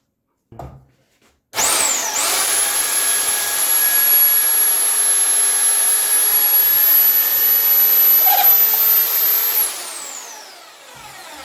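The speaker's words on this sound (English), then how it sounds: "it's very easy to drill at the wood, and this is 20 millimeter drill bit" A Bormann BPH4500 SDS Plus hammer drill in drilling-only mode bores into wood with a 20 mm bit, a loud steady whine running about eight seconds before winding down, with no talk.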